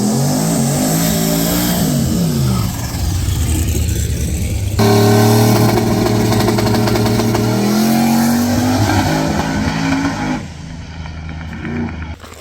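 A 1500 HP Holden VH Commodore wagon on a drag racing run: a loud, close engine roar revs hard, cuts sharply to a deeper, steadier howl about midway, then eases off and fades toward the end.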